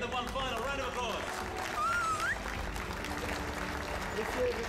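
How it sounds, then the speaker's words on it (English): Applause at a business achievement awards ceremony, a continuous wash of clapping mixed with overlapping voices and background music with tonal slides. "Give them one final round of applause."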